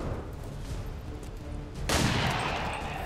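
Pistol gunfire in XCOM 2: War of the Chosen: a steady game background suddenly breaks into a loud, sharp burst of shot noise near the end, which rings on with a dense, sustained crackle.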